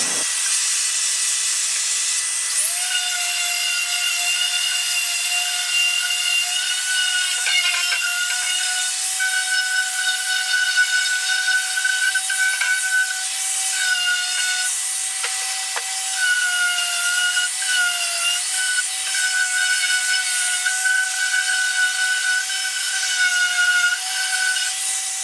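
A power sander hooked up to a shop vacuum with a small port hose kit works mahogany for a table, making a loud, steady whine and hum with slight shifts in pitch throughout.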